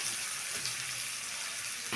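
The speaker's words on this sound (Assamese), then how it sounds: "মই পিঁয়াজখিনি দি পেলাই অকণমান হালকা ফ্ৰাই কৰি ল'ম।" Onions frying lightly in a pan with a steady, close sizzle of hot oil, a continuous hiss that holds at an even level.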